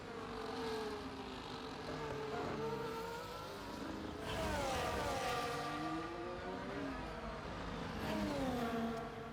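Several race cars in a racing video game at the Portugal circuit whine through their final lap, engine pitches rising and falling as they pass close by in a steady, continuous drone.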